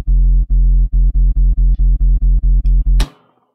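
A Sytrus synthesizer sub bass for trench dubstep, its volume modulated for movement, pulses in a steady rhythmic wobble of about a dozen loud, deep throbs before cutting off abruptly.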